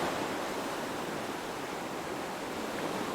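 Ocean surf roars and hisses in a steady, broad wash of waves, with no voices and no distinct break in the sound.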